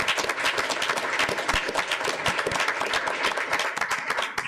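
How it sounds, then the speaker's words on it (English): Applause at a board of trustees meeting honoring soon-to-graduate college students: steady, dense clapping from a sizable audience, sustained throughout at a fairly even level with no talk over it. "let's give them a round of applause"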